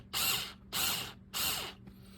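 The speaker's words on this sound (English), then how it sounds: "I'm going to put this screw back in using my trusty little electric screwdriver" Small electric screwdriver driving a screw back into an Abu Garcia Abumatic Colt fishing reel: three short, steady motor whirs of about half a second each, evenly spaced and close, with no talking.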